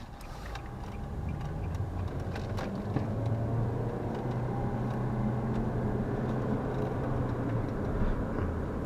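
A 2014 Nissan Juke Nismo on the move, heard from inside the cabin as a steady, close road and engine rumble with a low drone that holds evenly throughout, no voices.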